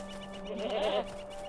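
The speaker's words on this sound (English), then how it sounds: "The goat readily eats the herb out of your hand." A goat in the fantasy MMO Lord of the Rings Online, in the Gardens of Imloth Melui, gives one short wavering bleat over steady game ambience, fairly close and clear.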